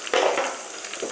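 Oil sizzles and crackles steadily as food fries, a brief close burst of bubbling hiss.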